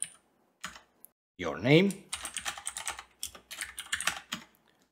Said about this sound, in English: Here, we need to type in our email address,